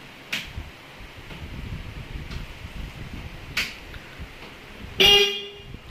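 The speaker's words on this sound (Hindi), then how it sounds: "ये हॉर्न आ गया भाई" At a tractor accessories shop, a tractor horn sounds in one short, loud, bright honk near the end, after quieter clicks and background noise.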